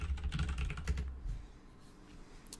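Steady run of keystrokes on a computer keyboard as a product name is entered into an online store's search field, fairly close and moderately quiet, with no talking.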